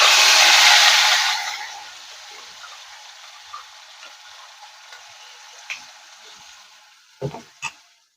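Spice paste with green cardamom and garam masala hits a hot pan for a restaurant-style paneer masala, a loud bright sizzle at first that quickly drops to a soft steady frying hiss, with a few clinks of a utensil near the end.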